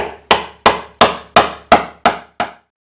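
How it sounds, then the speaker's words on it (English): Eight evenly spaced, loud hammer blows drive a metal shaft into a hole through wooden boards, each strike sharp and ringing briefly before the next, close up with no voices. "we're just going to go ahead and hammer this shaft in this hole."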